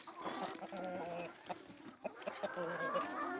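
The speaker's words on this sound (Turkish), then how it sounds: "Kimisi yumurtluyor içeride bağırıyor." Hens cluck and squawk inside a free-range farm coop in a busy, overlapping chorus, fairly close, with intermittent louder calls from laying hens rising above the steady chatter.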